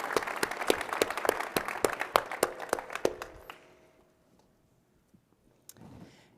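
Applause at the DrupalCon Portland 2024 keynote comes as distinct, fairly sparse claps in a quick rhythm, clear and close at first, then stops abruptly after a few seconds and leaves near silence with one faint stray noise.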